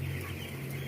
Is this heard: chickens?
yes